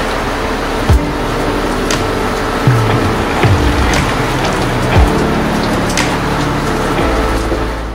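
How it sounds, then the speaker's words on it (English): Heavy rain pouring down during a storm on a sailboat crossing the Pacific, a dense steady hiss of drops with occasional louder splashes and thumps nearby. "It's a good downpour."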